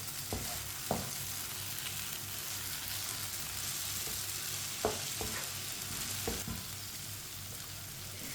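Masala okra with fried onions sizzles steadily in a pan while a spoon stirs it, with a few sharp scraping knocks against the pan over a constant frying hiss.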